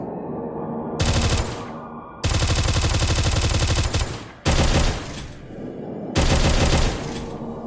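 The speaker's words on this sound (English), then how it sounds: "The machine gun." Machine gun fire in a boomer shooter game, sustained loud automatic bursts in several long strings separated by short pauses, with no talk.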